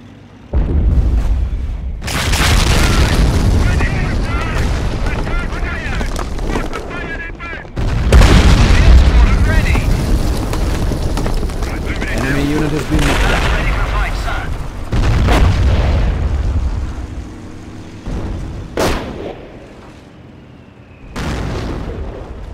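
Booming artillery explosions and gunfire from a Company of Heroes battle set in 1944 Normandy and 1943 Africa, loud heavy blasts rolling almost continuously, with voices talking over the barrage.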